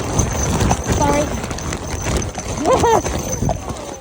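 A horse walking on a hillside in the High Peak, hooves clip-clopping steadily and close under a handler's encouraging talk.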